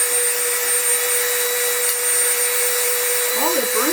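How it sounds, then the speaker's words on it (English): A Dremel rotary tool whines at a steady high pitch, grinding into a Nike Cortez sneaker from the Stranger Things Upside Down pack, with a faint voice near the end. "I'm gonna use a Dremel, see if I could wear this down a bit."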